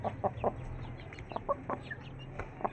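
A hen clucks in short, soft, irregular bursts at moderate distance, a few quiet clucks spaced across a couple of seconds over low background hum.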